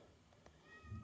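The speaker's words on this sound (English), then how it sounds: "I don't know if you can hear the cat meowing outside." A cat meows outdoors during a motorcycle walkaround, a faint, brief call set against steady low background rumble.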